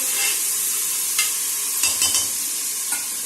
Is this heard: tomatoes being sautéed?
yes